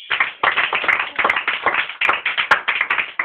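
A church congregation breaking into applause, dense rapid clapping that stays loud and steady throughout with a few sharper claps standing out.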